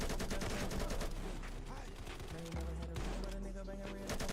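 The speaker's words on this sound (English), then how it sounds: "There's the AK." Automatic AK rifle fire in Call of Duty, rapid dense bursts of gunshots that continue steadily, with low booming impacts joining near the end, quiet and somewhat distant overall.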